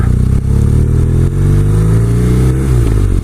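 A BMW R Nine T Cafe Racer motorcycle is ridden, its engine loud and close with a steady throbbing drone, brief dips as the throttle eases around gear changes, then rising again.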